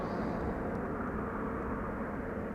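An Emirates Airbus A380 jet approaching to land on runway 06 produces a steady, broad roar of engine noise, distant and even for the whole stretch with no voices.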